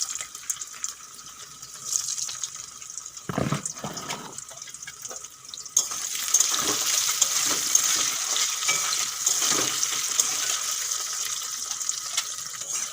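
Boiled potatoes fry in hot mustard oil with a pinch of salt, a steady close sizzle that swells louder and denser midway, with a burst of stirring scrapes just before the oil crackles up.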